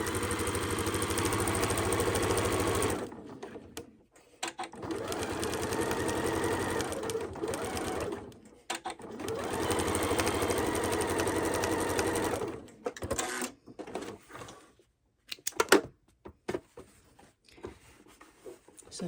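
A sewing machine stitches fabric strips onto quilt block squares for a log cabin style block, running in steady whirring bursts of several seconds with short pauses and handling noises between seams.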